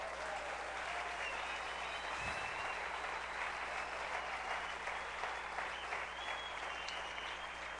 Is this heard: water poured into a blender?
no